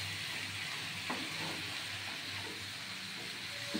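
Chicken pieces frying in a little oil in a frying pan for a Bengali-style chicken jhol, giving a steady, close sizzle with a few faint clinks of stirring throughout.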